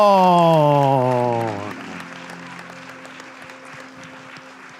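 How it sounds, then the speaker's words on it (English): An audience applauds at a hackathon closing ceremony in Sydney, with steady clapping that continues under a loud sustained voice at the start and then carries on alone. "one more big round of applause"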